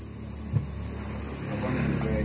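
Dense, steady chirping of crickets at the Thanh Bình cricket farm, a continuous shrill trill close by filling the whole stretch, with a faint low hum beneath.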